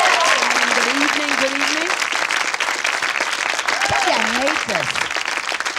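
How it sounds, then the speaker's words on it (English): Studio audience applause for comedian Pudgy on a comedy talk show, a steady dense roar of clapping throughout while she speaks over it. "Oh, you're going to applaud so I don't talk to you"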